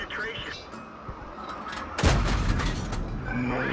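A StuG III G tank gun fires at a Matilda in a tank combat game, a single loud, close boom that cuts through quiet engine rumble and leaves a sustained rumbling tail.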